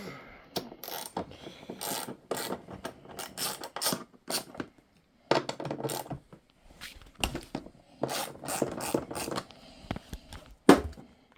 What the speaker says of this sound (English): So let's start by taking these 2 bolts off.